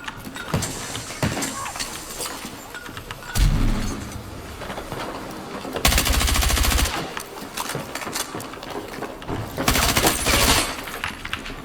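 Gunfire in the video game Battlefield 6: rapid automatic bursts and single shots crackling close and loud, with a few heavier blasts standing out amid the steady battle noise.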